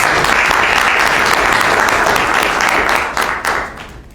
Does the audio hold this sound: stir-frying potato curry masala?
no